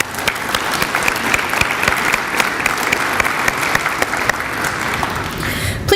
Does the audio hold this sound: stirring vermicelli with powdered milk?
no